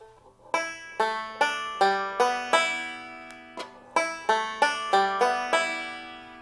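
A Dean six-string banjo, the guitjo, strung with plain unwound strings, is strummed in about a dozen bright, ringing strokes at an even rhythm. Each one rings out close and alone, with a brief pause partway through.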